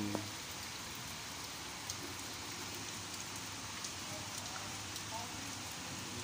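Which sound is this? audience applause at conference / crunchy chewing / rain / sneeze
rain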